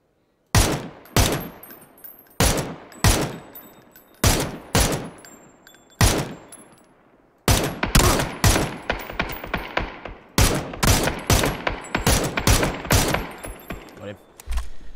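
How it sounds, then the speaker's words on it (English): Bursts of gunfire in PUBG on the Taego map, loud close volleys of rapid shots in repeated clusters, then denser continuous firing in the second half. "someone else is shooting from over here"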